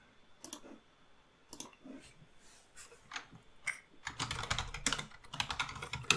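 A computer keyboard clatters in close, quick bursts as a firewall rule is written, with sparse taps at first, then dense continuous typing and clicking.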